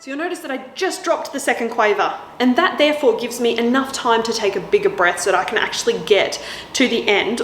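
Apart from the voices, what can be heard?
None of the usual background noises is heard.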